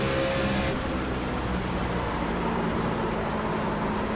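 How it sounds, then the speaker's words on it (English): A NASCAR stock car engine in the iRacing game runs with a rough, continuous drone and a brief shift early on, suggesting gear trouble, loud and steady with no talking. "Sounds like the car has like gear issues going on."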